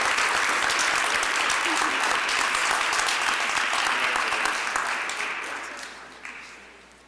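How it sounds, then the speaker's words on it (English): An audience at the 2022 Mayor's Community Service Awards applauds an award recipient with steady, dense clapping from many hands. The applause holds strong, then gradually thins and fades toward the end. "Round of applause for Ashley."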